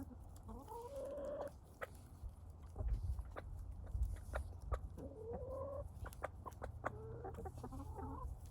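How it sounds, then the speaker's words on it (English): Chickens in a backyard setting with rabbit cages give repeated soft clucks and short warbling calls in several bursts, fairly near but quiet, with scattered light thumps and a low background hum. "Chickens are going to enjoy the fodder."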